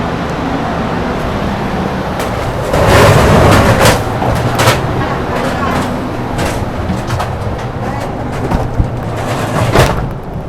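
A Thai passenger train bound for Hat Yai rumbles steadily nearby with clanking and rolling noise, while people talk over it.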